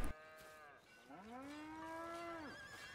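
A cow in Red Dead Redemption 2 lets out one long, clear moo that swells and falls in pitch, close and alone after a brief click.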